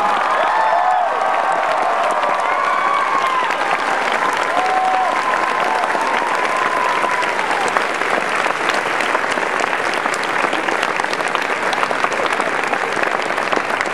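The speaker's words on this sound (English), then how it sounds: "Please give them a round of applause." A Phoenix Comicon audience at a Star Trek Continues panel gives steady, dense applause with scattered cheers for the cast, holding loud and even throughout, a few whoops rising near the start.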